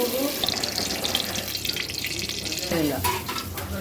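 Masala being stirred into chicken in oil for biryani, a continuous wet sizzling and scraping with irregular stirring strokes, close and fairly loud.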